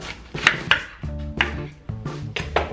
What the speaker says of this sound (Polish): Ponieważ całego go nie zjem, to kroję najpierw na pół.